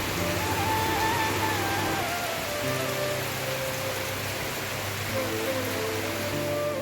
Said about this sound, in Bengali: সারা দিন মুসলধার বৃষ্টি হচ্ছে এত বৃষ্টি হচ্ছে